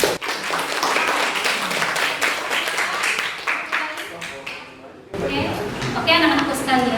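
A high school class in Indonesia claps together in a classroom, with fast, dense clapping over the first five seconds before it stops. Voices follow after a brief pause.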